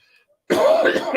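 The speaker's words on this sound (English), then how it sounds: "Sorry for the cough." A single short cough, close and fairly loud, after a brief moment of near silence.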